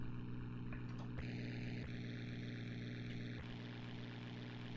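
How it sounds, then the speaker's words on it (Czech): Propeller airplane engine in the Amiga flight game Knights of the Sky, a steady droning hum running throughout with faint tonal blips over it, no talk. "Pořád teď slyším motor vlevo. Teď vpravo."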